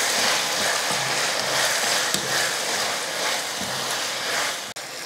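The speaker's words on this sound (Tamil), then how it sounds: "கத்திரிக்காயும் தக்காளி வதங்கிறதுக்கு கொஞ்சம் உப்பு போட்டு நல்லா வதக்கிடுவோம்." Tomato and brinjal sautéing with salt in a pan for a kulambu, giving a steady, even sizzle with faint occasional stirring scrapes, no talk.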